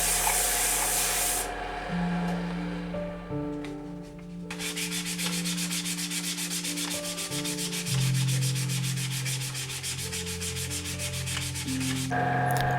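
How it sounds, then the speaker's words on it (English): Steady abrasive rubbing of sandpaper against an ebony pen spinning on a lathe, a continuous close hiss with a low motor hum underneath, briefly easing before resuming. "With skew chisel and some sanding, the pen is turned to the diameter of the distance ring."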